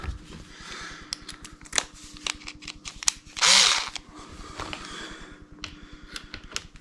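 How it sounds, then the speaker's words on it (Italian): Power screwdriver backing out the screws of an RC car's front differential (Mugen), whirring in short close bursts with clicks and ratcheting, one louder sustained run in the middle. "io di solito li faccio sempre prima una batta a mano per svitarli e poi vado di avvitatore."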